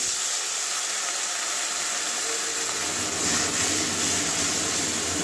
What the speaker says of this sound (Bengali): একটু জল দিয়ে কষিয়ে নেবো, হালকা জল দেবো